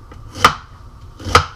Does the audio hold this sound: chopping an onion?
yes